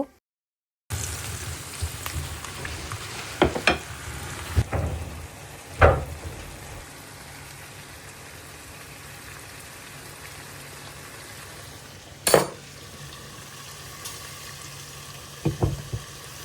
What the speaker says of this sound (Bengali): আমি হচ্ছে মশলাগুলোকে কষিয়ে নিচ্ছি ভালো মতন কষিয়ে